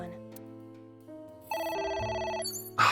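A phone rings in the video game AI: The Somnium Files, a bright electronic ringtone that swells and repeats after quieter tonal game sounds, ending with a louder burst.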